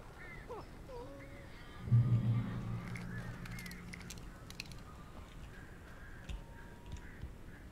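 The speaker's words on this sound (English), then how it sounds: "These birds are weird." Crows caw harshly in the video game Alan Wake, several rough calls clustered together near the start before fading into scattered clicks and quiet ambience.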